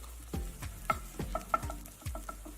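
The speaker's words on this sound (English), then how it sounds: "I'm then going to add in my garlic and continue to stir these in the pan" Onions and garlic sweating in olive oil in a pan while being stirred, with a handful of distinct knocks of a utensil against the pan over a quiet, faint sizzle.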